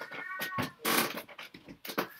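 An aging pet cat meows repeatedly indoors in a series of short, fairly faint calls, each separated by brief pauses.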